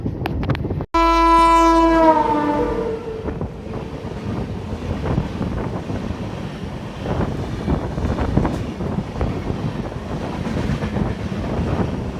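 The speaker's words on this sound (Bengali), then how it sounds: "তো আমাদের ট্রেন এখন ঢুকছে মশাগ্রাম।" A Howrah–Purulia MEMU train pulls into Masagram station, opening with a long, loud multi-tone horn blast, then a steady close rumble of the coaches rolling over the track with wind buffeting the microphone.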